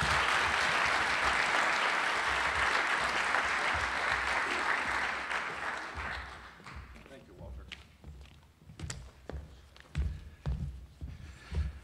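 An auditorium audience at a university address applauds to welcome a speaker, a loud, steady clapping that thins to scattered claps and thumps as it fades.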